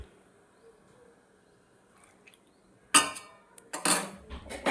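A lid goes onto a pan of fish cooking with chopped tomato, a quiet simmer followed by a few sharp metallic clanks and scrapes of cookware close by.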